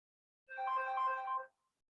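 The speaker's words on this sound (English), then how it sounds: "Can I just apologise for the phone ringing in the background" A phone ringtone sounds once in the background of a counselling session for deaf clients interpreted into British Sign Language, a steady electronic tone lasting about a second before cutting off.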